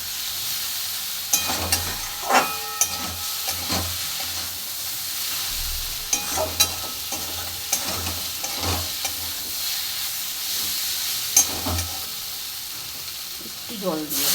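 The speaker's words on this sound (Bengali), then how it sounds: "এবার আমি দিয়ে দেবো চুনো মাছটা। দেখুন মাছটা দিয়ে ভালো করে নেড়ে চেড়ে নেব।" Small chuno fish fry in a pan with a continuous bright sizzle while a utensil stirs and scrapes through them, giving soft intermittent knocks over the hiss.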